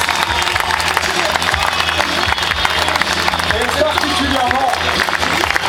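A rodeo audience at the Equiblues 2009 finale claps and cheers in a large outdoor crowd, steady applause running throughout while an announcer speaks over it.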